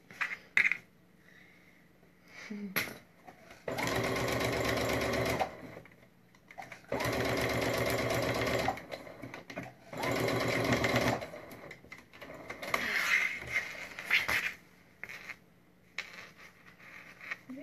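A sewing machine stitches a triangle pencil case in three long steady bursts of whirring, with quiet pauses, small handling clicks and fabric rustle between them.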